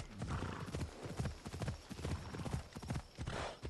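Horse hooves clip-clop steadily at a walking pace up a hill in Assassin's Creed Odyssey, a close, continuous rhythmic clatter with a faint whinny mixed in and no talk over it.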